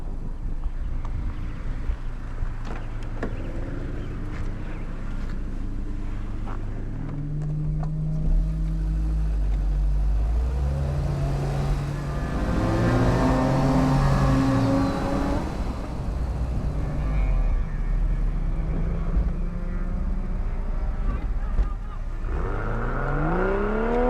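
A 2005 Honda S2000 AP2 pulls away onto a race track, its engine climbing through rising revs with shifts between them, heard from inside the car over wind noise and a steady low drone.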